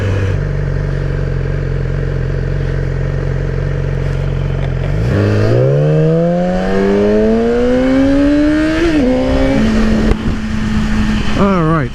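Road traffic heard from a motorcycle ride in heavy traffic, with steady engine drone and wind that gives way to rising revs and gear-shift sweeps as the bike accelerates, loud and close throughout.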